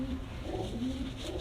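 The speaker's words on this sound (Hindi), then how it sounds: "बंदुम का कबूतर है" A Sialkoti pigeon in Islamabad gives a short, soft, low cooing, faint and close, with no voices over it.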